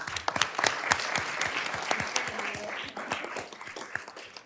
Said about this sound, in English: if we can all just give one more round of applause for our district winners